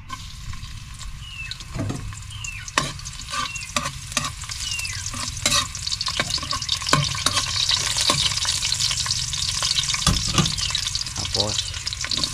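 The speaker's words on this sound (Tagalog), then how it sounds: "So yan, gigisa muna tayo," Shrimp paste (bagoong) sizzles in a pan as it is sautéed, a loud steady frying hiss with repeated scraping stirs of the utensil against the pan, and a voice speaks briefly over it.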